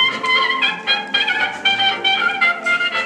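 A 1929 band recording plays, with bright horn-like melodic lines over a steady rhythmic pulse, heard moderately loud and continuous with no talk.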